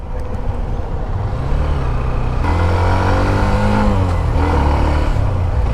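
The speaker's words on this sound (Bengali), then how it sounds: "বাইকটা কিন্তু একটু ডাকও দিতেছে" A Hero Xtreme 125R motorcycle's 125cc engine revs and climbs in pitch, loud and close, over a constant throaty rumble.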